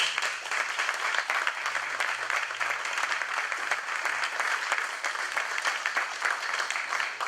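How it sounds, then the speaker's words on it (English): A room of listeners applauds the panelists at the end of a talk on efficient cannabis lighting, giving sustained, even clapping that stays fairly quiet and distant for the full stretch. "Let's please give a huge round of applause."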